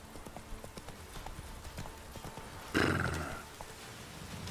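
Rapid clip-clop of the horse Roach galloping in The Witcher 3, with a loud neigh cutting in partway through over faint game background.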